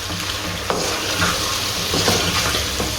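Spoon stirring turmeric and red chilli powder through hot oil in a frying pan, a steady close sizzle with scraping strokes, no talking.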